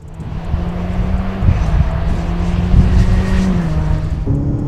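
Turbocharged Ferrari F8 Tributo engine driving on a wet track, a loud steady drone with rising and falling engine tones and shifts in pitch, up close and continuous without any talk.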